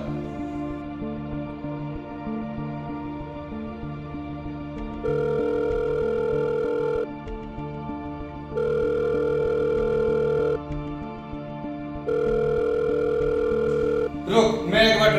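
A phone call's ringback tone repeats in three long, steady beeps separated by pauses, clear and fairly loud over a low background hum, before a brief rustle at the end.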